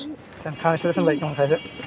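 Flying-breed pigeons coo in a short burst of rising and falling calls at a pigeon market, close by and mixed with a talking voice.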